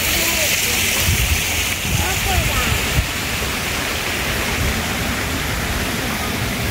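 Water from an indoor fountain in Sheffield's Winter Garden rushes and splashes steadily, a constant close wash of sound with a voice faintly under it.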